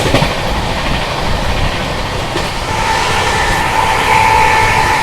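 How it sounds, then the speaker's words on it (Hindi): The Mahabodhi Express runs at high speed, a loud continuous rushing rumble with rattling wheels on the track and a rising whine near the end, heard from on board with no talk. "भाई साहब क्या रफ्तार में भाग रही है यहाँ पे मावोदी एक्सप्रेस"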